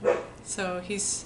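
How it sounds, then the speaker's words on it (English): A dog barks a few times in the background while a person talks over it. "Sorry if you hear my dog in the background."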